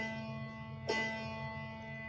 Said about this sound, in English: With the pedal, it sounds like this.